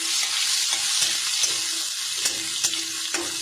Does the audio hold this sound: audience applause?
no